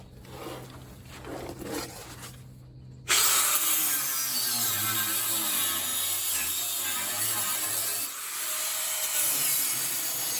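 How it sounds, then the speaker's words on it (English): A cut-off wheel slicing through rusted leaf spring bolts on a 1961 Willys Jeep CJ5, first a quieter buzzing, then a loud sustained shrieking grind that dips briefly near the end and continues, with no talking. "cut off wheels should make quick work of this"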